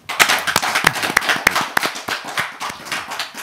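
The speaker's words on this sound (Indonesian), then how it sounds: "Tepuk tangan buat Abah Setu." Audience clapping for Abah Setu at an Indonesian talk show taping: a small crowd's irregular, sharp claps, loud and close at first and gradually thinning, with no talking over it.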